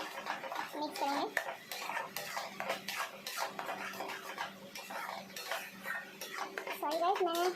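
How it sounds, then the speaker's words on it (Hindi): Spinach paste being stirred into fried masala in a pan for palak paneer, repeated scraping and clinking of a spoon against the metal pan close by, with someone talking over it. "अब इसमें ये पालक का पेस्ट जाएगा, मसाला फ्राई हो चुका है, इसको अच्छे से मिक्स करेंगे।"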